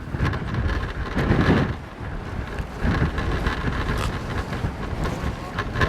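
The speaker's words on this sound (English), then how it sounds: "Winds out there, it was gusting from 50 to 60, maybe up to even 80 at some points." Strong wind gusting around 50 to 60, up to 80, in open exposed country buffets the microphone in heavy, surging gusts, rising and falling in loud roaring waves.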